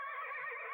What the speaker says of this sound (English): Why is he so freaked out by the sound of a horse?